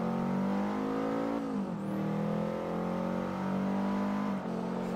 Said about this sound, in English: This car is quick, though.